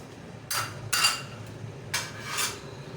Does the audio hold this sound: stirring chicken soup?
yes